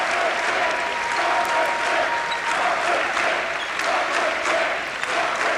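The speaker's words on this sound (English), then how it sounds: "Standing ovation for our BB starters" Standing ovation for the starters at a 1997 BV vs Central men's basketball game, with sustained crowd clapping that stays loud and even, a dense wash of applause filling the arena.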